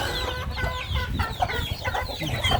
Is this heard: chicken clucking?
yes